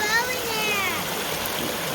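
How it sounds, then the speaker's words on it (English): A creek runs high on a rainy day, its water rushing and splashing in a steady, broadband wash close by, with a voice and an adult chatting briefly over the flow. "Wow, look at all the water coming down."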